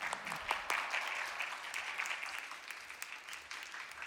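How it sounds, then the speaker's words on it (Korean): A church congregation claps to welcome the pastor, a soft, fairly distant wash of steady applause with a few sharper claps early on, gradually tapering. "목사님이 나오실 때 우리 다 같이 환영의 박수와 함께 할렐루야로 맞이하도록 하겠습니다."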